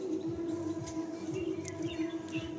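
A male and female pair of Madrasi tournament pigeons give faint, scattered chirps and soft coos over a constant low hum.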